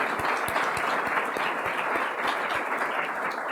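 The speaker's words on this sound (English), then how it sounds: "Could we please have another rousing round of applause for Dave Specht?" Audience at a succession planning seminar applauding a speaker, a dense wash of clapping with some distinct individual claps in an uneven beat near the front, sustained and moderately loud.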